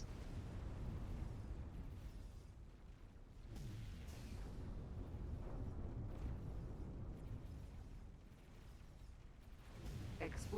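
Explosion in the space game X4, a deep rumbling low boom that rolls on for several seconds with lingering debris crackle, fairly quiet and heard alone.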